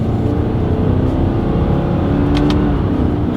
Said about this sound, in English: let's see how quickly we can get our new Subaru Forester here up to speed